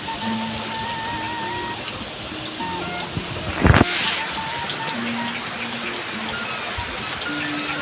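Steady rain falls over remote rice fields, a continuous hiss of drops holding evenly throughout, broken once by a brief louder burst near the middle, with faint tonal sounds in the background.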